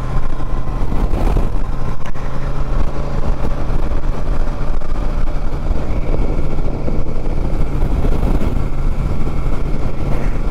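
Royal Enfield Super Meteor 650 motorcycle cruising in fourth gear at about 40 mph, a loud steady engine drone mixed with heavy wind rush, constant and close throughout with no talking.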